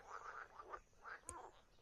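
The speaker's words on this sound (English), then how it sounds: "The sound of frogs lulling me into a gentle rest." Frogs croak in a steady chorus of repeated, rhythmic calls at moderate distance, with one sharp click partway through and no voices.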